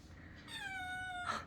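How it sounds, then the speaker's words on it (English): A kitten gives one drawn-out, high-pitched meow lasting about a second, close and clear, with a brief faint squeak just after it and no talking. "Hear that meow"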